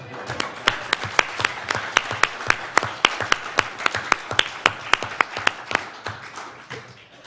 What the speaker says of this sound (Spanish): yo quiero aquí dar un aplauso a Flora Botton